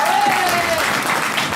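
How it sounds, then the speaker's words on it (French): An outdoor audience at a country music festival in Montréal-du-Gers, France applauds in a steady, full wash of clapping, with a voice and a brief whistle-like tone faintly over it. "on va applaudir Agnès,"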